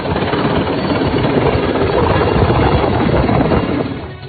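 A coast guard rescue helicopter sounds loud and close during flood rescues after heavy monsoon rain in Gujarat, its rotor and engine producing a dense, continuous chopping roar that eases slightly at the end, with no talk.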